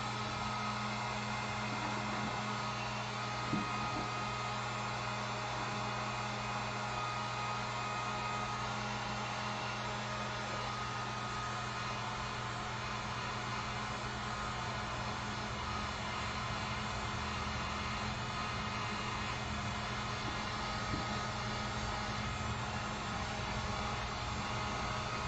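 A hair dryer runs steadily for the whole stretch, blowing on wet acrylic paint on a gingerbread-girl door hanger sign, a constant close whirring roar with no pauses and no talk over it.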